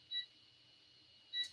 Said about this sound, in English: Put a little timer on.